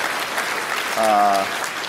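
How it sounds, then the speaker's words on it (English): Audience applause at a real-estate business talk, a dense wash of clapping that swells briefly as a voice calls out over it near the middle, then keeps going at a steady level. "Let's give him a round of applause."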